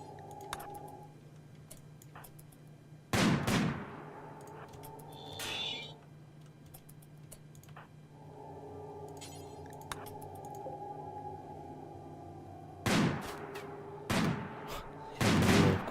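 Colonists fire guns in the video game RimWorld, several sharp gunshots spaced over a droning, tonal game background, with a couple of close shots at the end.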